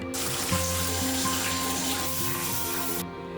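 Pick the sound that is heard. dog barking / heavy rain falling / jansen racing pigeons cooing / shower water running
shower water running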